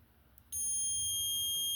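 A multimeter set to continuity gives a steady high-pitched electronic beep that starts abruptly after a faint moment of quiet and holds to the end.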